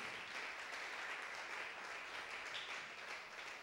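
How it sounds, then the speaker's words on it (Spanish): A church congregation applauds, a faint, steady wash of many hands clapping heard from a distance and sustained evenly throughout. "¿Cuántos le aplauden?"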